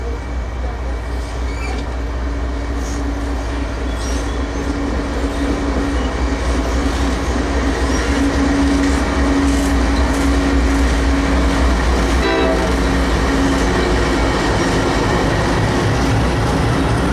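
A CSX 1776 freight train rolls through a station, its steady low rumble and rail clatter holding loud and close across the whole stretch with no pause.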